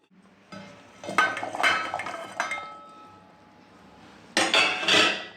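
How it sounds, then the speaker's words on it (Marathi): Hot boiled cauliflower and peas are mashed for pav bhaji in a metal pot, with several sharp metallic clinks and scraping knocks of the masher against the vessel, coming in two bursts with a quieter pause between them. "आता हे गरम असतानाच मी मॅश करून घेते"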